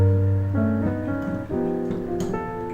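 A piano plays a short run of whole-tone chord voicings built around G, with notes entering one after another and ringing together, soft and close, with no voices.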